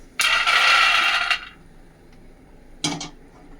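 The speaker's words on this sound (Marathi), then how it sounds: "आता बघा ही शेंगदाणा आमची ही भाजली, काढून घेते" Roasted peanuts being scooped out of a pan, giving a brief rattling, clinking scrape of nuts against metal, then a short second clatter a moment later, close and alone.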